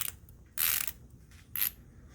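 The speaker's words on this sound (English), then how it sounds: "I got the Matco Ratcheting E-Torques." Matco ratcheting E-Torque wrench, a ratcheting electronic torque wrench from a mechanic's tool box, gives two short, bright clicking ratchet bursts separated by a pause, close and clear with no talking.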